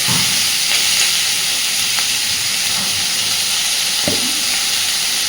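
Potatoes fry in a pan with other ingredients, giving a loud, dense, unbroken sizzle up close, with a few light knocks of a stirring spoon against the pan.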